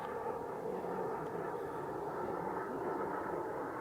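A twin-engine Krill Ares RC jet on its maiden flight gives off a steady, unbroken turbine roar. It sounds fairly distant and even in level, with no voices over it.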